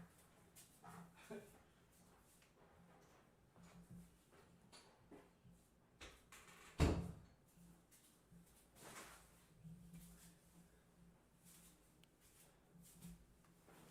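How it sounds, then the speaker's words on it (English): A door pushed shut in a room during a live podcast recording: one solid thud about halfway through, with faint voices and small handling noises in an otherwise quiet space. "You want to close the door so Chris doesn't have to listen to us"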